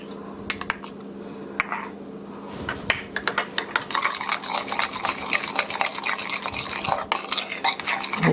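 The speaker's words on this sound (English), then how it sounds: "I have here in this bowl 1 cup of mayonnaise and 2 teaspoons of Dijon mustard, and I'm just going to mix that together" Mayonnaise and Dijon mustard are stirred together in a bowl, giving a steady run of soft scraping and clicking strokes from a utensil against the bowl. The strokes are close and continuous, with no talking.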